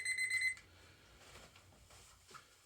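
A brief electronic alarm-clock ring sounds for about half a second, moderately loud, then cuts off into quiet background noise during a Christmas Day pub football match commentary.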